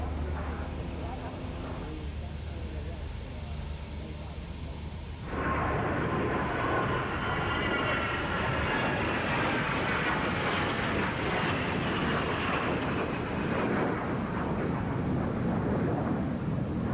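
A jet from an aerobatic team roars past during the RAF Fairford air show, a deep, loud, sustained rumble building and washing over the crowd, with a commentator talking over the engine noise.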